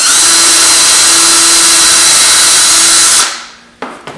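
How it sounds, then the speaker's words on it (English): A power drill bores a hole through the center of a wooden setup block, a steady loud whine running about three seconds before spinning down, followed by a brief clunk. "I'm going to drill a hole in here, right in the center of it"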